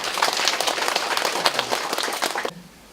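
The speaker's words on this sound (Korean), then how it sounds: "한번 박수 쳐주십시오" Brisk applause from a room full of people claps steadily for a few seconds, then cuts off, leaving quiet room tone.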